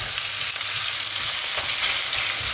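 Chicken and vegetable stew sizzles in a pot as it is stirred. The frying hiss is loud and steady and close up, with soft scraping from the stirring and no voices.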